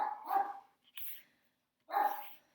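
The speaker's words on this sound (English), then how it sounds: "My God, that dog." A dog barks in the background, two clear barks with a softer yip between them, moderately loud and heard on its own without talking.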